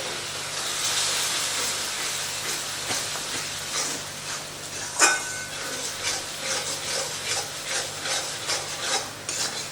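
Hot water poured into sizzling masala in a pan over high gas flame for paneer bhuna masala, a steady close hiss and crackle of steam with faint scraping, continuous throughout without talking.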